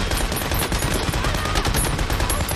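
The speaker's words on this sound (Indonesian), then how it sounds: "Baku tembak pun terjadi." Dense gunfire from a World War II battle scene in a war film, rapid overlapping machine-gun bursts and rifle shots, loud and continuous with no voices.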